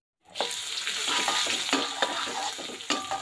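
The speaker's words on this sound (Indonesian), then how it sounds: "Dan ini dia kikilnya. Mari kita tumis-tumis." Kikil (beef tendon) stir-fried in a pan with ginger, shallots, garlic, tomato, bird's-eye and green chillies: a steady, close, loud sizzle broken by repeated scraping stir strokes, with no voices.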